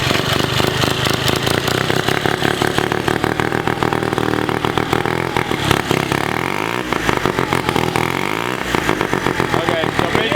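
Engine of a turbocharged rotary minibike running, a loud, close, continuous buzzing drone with rapid pulsing firing and small shifts in pitch, steady throughout.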